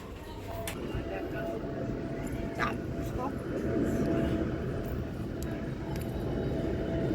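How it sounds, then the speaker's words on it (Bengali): An airplane passes overhead outdoors, producing a steady, broad rumbling roar that swells slightly midway and holds for several seconds, with faint voices nearby. "ওই যে প্লেন যাচ্ছে দেখো"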